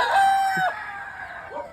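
A rooster crows loudly and close, followed by a few short clucks from a chicken.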